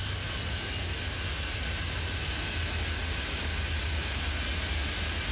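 A big airliner's engines roar steadily in the Airport Madness 3D airport game as it takes off from runway 30, a loud, constant broadband rush with no breaks and no voices.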